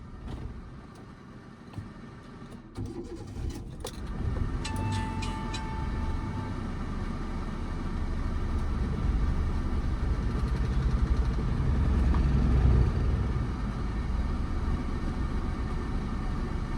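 A learner's car creeps forward a few metres in first gear during a driving lesson, its engine a steady low idle-like hum that grows slightly louder and fuller as it rolls, with a few faint clicks early on.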